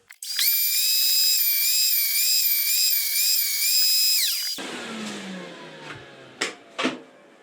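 A Makita 2012NB thicknesser planing wood runs with a loud, high, steady whine that wavers slightly for several seconds and then cuts off abruptly, followed by a quieter rattle and two sharp knocks.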